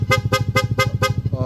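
A Corsa version 3 dual horn on a Yamaha Aerox V2 scooter sounds in rapid mode, five quick loud blasts in even rhythm followed by a brief sixth.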